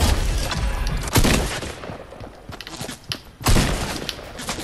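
Gunfire in the Fortnite Battle Royale video game, with loud bursts of shots and heavy impacts in a dense, chaotic volley and two especially strong blasts standing out.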